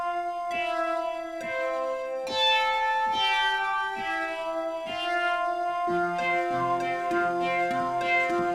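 Synthesized cat meows from an Omnisphere 2 patch called Cats in Space, a series of pitched, musical meow tones in rhythmic succession with layered harmonies building toward the end, loud and alone.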